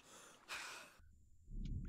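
A character in the survival video game Stranded Deep takes a quick, faint breath, a short airy inhale followed by a soft exhale, with no speech.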